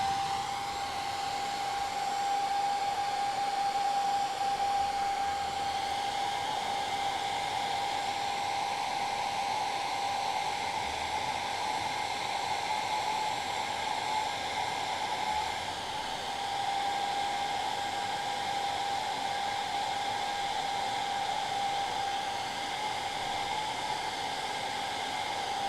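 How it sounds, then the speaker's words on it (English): A hair dryer blows steadily at close range, a constant airy whir with a high motor whine that never lets up. "hair dryer."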